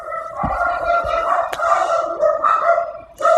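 Dogs bark and yip in a close, sharp flurry, with tonal whining and howling threads running through the short burst.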